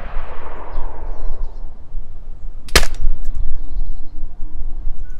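A single sharp, loud gunshot cracks in a video game firefight over a rumbling, noisy background, with faint distant pops trailing after it.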